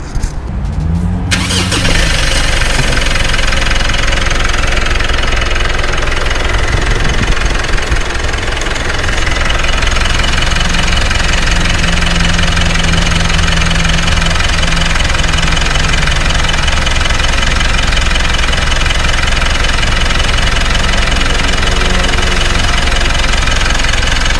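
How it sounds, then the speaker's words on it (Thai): A 2017 Mitsubishi Pajero Sport 2.4 GT SUV engine idles steadily and loudly for a long stretch, a constant low rumble with a faint mechanical whine, after a brief startup at the beginning. "เดี๋ยวเราให้ฟังเสียงเครื่องยนต์สักเล็กน้อย"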